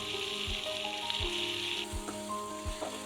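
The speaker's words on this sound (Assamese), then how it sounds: "আৰু এয়া ভাজি আছে এতিয়া" Duck meat fries in a pan with oil, salt and turmeric, giving a continuous close sizzle with a few regular low knocks from stirring spaced about every second.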